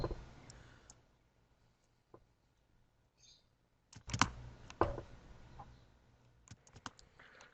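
Scattered mouse clicks from a computer in an office, a few sharp isolated taps with quiet gaps between them, fairly close and alone with no talking.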